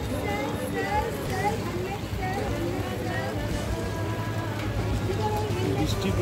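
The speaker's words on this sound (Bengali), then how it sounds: "বৃষ্টি পড়ছে।" Steady rain falls on Mall Road in Manali, a dense even hiss that runs unbroken throughout while voices talk over it.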